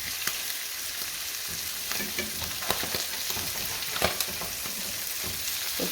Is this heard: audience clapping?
no